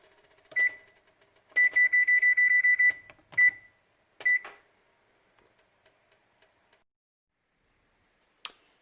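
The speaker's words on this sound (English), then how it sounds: "And then I'll put my timer on for 10 minutes." An oven timer set for ten minutes while baking a lime cheesecake: a short beep, then a rapid run of repeated beeps, two more single beeps, and soft button clicks, close and clear in a quiet kitchen.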